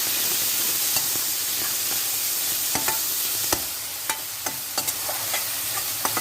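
Tomato masala for radish bhurji cooks in a pan, giving a continuous close sizzle with scattered spoon clicks and stirring scrapes and no talking.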